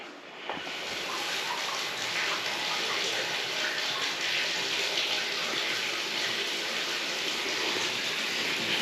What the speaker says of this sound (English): probably all the water that I'm spraying down here is like flowing down through the overflow